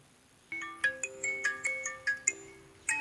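A chiming electronic ringtone plays a short tinkling melody of repeated bell-like notes, fairly quiet, with no talking.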